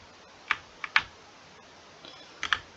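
Keys on a computer keyboard are pressed to steer a character in a 3D animation demo, a few sharp isolated clicks with pauses, close and fairly quiet.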